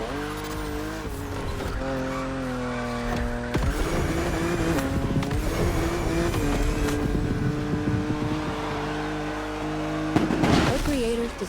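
BMW car driving in The Crew Motorfest, its engine tone shifting through gears with bursts of tire squeal and skidding, continuous and fairly loud throughout, with voices talking over it.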